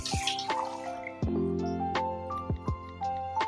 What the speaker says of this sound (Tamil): இதில் தண்ணி ஊற்றிக்கலாம்